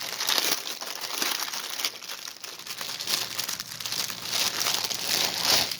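Crinkly plastic packaging bag from a pre-stamped cross stitch kit being handled, giving a steady close crackle and rustle that runs throughout with uneven swells, no voices.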